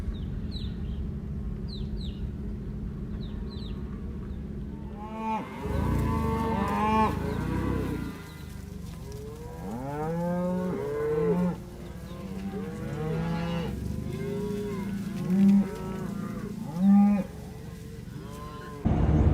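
Cattle being driven up a valley moo repeatedly, with a quiet outdoor stretch of distant birdsong first and then a herd lowing in overlapping calls, some near and loud, others farther off, continuing for the rest of the time.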